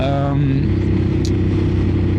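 Ducati Monster 950 Plus motorcycle fitted with an aftermarket Termignoni exhaust, its engine note a steady, close, loud drone while riding, with no talk over it.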